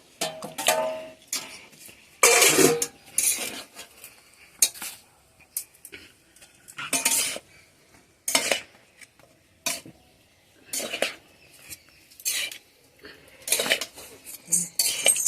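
A utensil scrapes and clanks against a pan while chicken chowmein is tossed and stirred, in irregular close bursts of metallic clatter separated by short quiet gaps.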